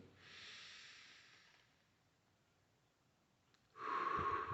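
Slow, quiet breathing in a calm relaxation exercise: a long soft inhale through the nose, a pause, then a louder, breathy exhale through the mouth, close and alone.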